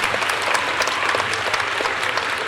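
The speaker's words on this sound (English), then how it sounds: "So let's give ourselves a round of applause." Commencement crowd in a field house applauding loudly and steadily, a dense wall of clapping throughout.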